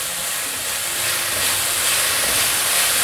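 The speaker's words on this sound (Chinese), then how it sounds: "快速翻炒，让调味料和食材融合" Vegetables stir-fried quickly in a wok with salt, white pepper, vegetarian oyster sauce and soy sauce, a loud continuous hiss of sizzling that swells slightly toward the end, no voices.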